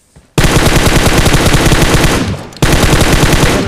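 Sustained automatic gunfire in PUBG on the Livik map, loud and dense rapid bursts filling nearly the whole stretch, with a brief dip before the firing resumes at full intensity.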